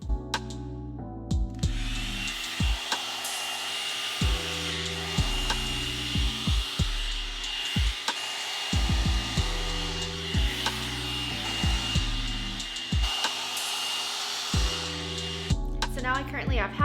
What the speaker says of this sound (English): the Amazon alternative tool will dry your hair faster because the heat is stronger and the brush obviously is bigger